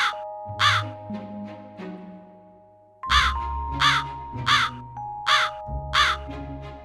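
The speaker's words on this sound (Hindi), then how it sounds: "जब वो झुंड के कौवे काव काव करते हुए खाते" A flock of crows caws loudly and close, harsh repeated calls in bursts with short pauses between them, over a faint sustained hum.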